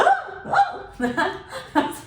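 A voice imitates loud, full hiccups, about four abrupt vocal jerks spaced roughly half a second apart, close and fairly loud.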